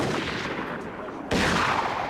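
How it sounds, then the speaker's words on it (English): Massed musket volley from an infantry square in a Total War game depicting the Anglo-Zulu War at Isandlwana, a dense crackling burst of gunfire with a sharp louder volley partway through, thick and continuous battle noise. "I wish that the square would continue firing"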